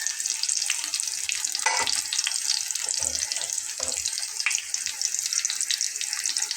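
Two breakfast flatbreads fry in a pan with a steady close sizzle and crackle, the hiss constant throughout with no talking.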